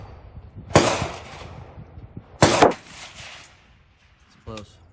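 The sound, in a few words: gunshots from a Colt M4 LE6920 SOCOM rifle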